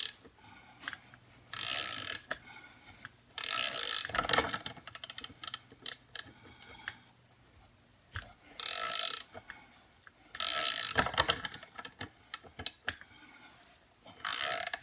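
Rapid ratcheting clicks from a flex head ratcheting wrench tightening a hot automotive bolt, coming in several loud bursts of quick strokes separated by short pauses, up close with no talking.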